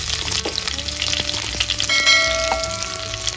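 Toor dal, a dried red chili and curry leaves fry in hot oil for small onion kara kuzhambu, a loud, close, continuous crackling sizzle with faint metallic stirring clinks.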